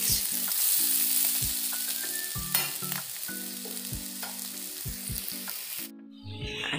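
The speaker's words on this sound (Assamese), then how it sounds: "তেন্তে আলুখিনিকে ভাজি লওঁ" Potatoes fry in a pan with a constant close sizzle and occasional scraping stirs, loud and steady until it drops away near the end, with no talking.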